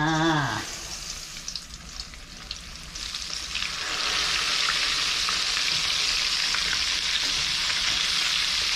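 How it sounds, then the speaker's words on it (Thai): Batter fries in a pan with a clear bubbling sizzle that swells louder and denser after a few seconds and then holds steady, preceded by a brief tonal sound at the start, with no speech. "อันนี้แป้งนะครับผมนะทอดแป้งกิน"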